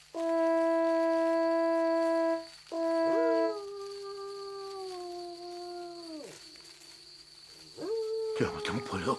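A wolf howling in long sustained tones, two loud howls followed by a wavering, fading one, then a short final howl, with a brief noisy burst at the end.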